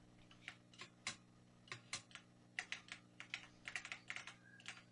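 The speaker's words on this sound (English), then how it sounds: "That clicking is not the game sound, that's his keyboard." Computer keyboard being typed on, producing faint, irregular bursts of clicky keystrokes over a quiet background hum.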